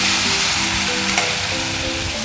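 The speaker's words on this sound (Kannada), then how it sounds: "ಈಗ ಒಗ್ಗರಣೆ ಸಿದ್ಧವಾಗಿದೆ. ಕೆಸುವಿನ ಸೊಪ್ಪಿನ ಕರಕಲಿಗೆ ಸೇರಿಸುತ್ತಿದ್ದೇನೆ." Hot tempering poured into taro leaf karakali, a coastal Karnataka dish, sets off a loud, steady, bright sizzle that holds for a couple of seconds with no talking.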